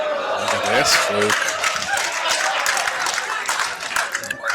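Crowd applause breaks out after a shot in a men's open pool match in Las Vegas, loud and sustained clapping mixed with cheering and voices for several seconds.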